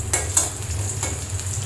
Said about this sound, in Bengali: বেরেস্তা ভাজা পরে হালিমে দিয়ে দিব